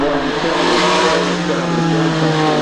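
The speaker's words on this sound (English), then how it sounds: "sounds even better, the Ferrari motor up the back" Ferrari-engined rally car at the Goodwood Festival of Speed, a loud, close engine roar held steadily throughout, dense and raspy with a constant drone and no clear breaks.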